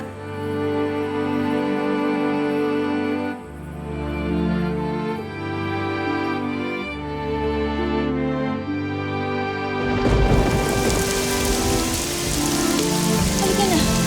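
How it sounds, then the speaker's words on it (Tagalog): Rain begins falling in a dramatic scene, steady hiss under a swelling musical score, building to a louder wash of rain near the end. "Umuulan na, Ivan."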